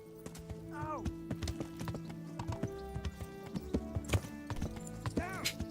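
Horse hooves clip-clop steadily along in Kingdom Come: Deliverance, with a couple of high whinnies breaking through and other game sounds layered underneath.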